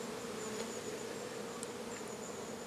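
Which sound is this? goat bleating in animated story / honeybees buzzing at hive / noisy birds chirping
honeybees buzzing at hive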